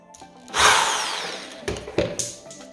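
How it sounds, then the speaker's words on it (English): A short burst of power drilling whines up, then rough grinding and scraping of a bit through a plastic rain barrel on a wood surface, followed by a few knocks. "So that's how you drill your holes out"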